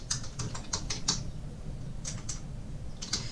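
Quiet, irregular keystrokes on a computer keyboard while SQL code is typed, coming in short bursts of clicks separated by pauses.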